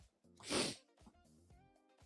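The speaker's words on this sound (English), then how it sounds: "I don't know why I'm sneezing." A single sneeze, fairly quiet, rising sharply and fading within a moment, with faint background sounds around it.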